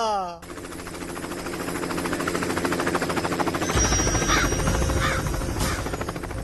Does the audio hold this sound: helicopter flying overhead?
yes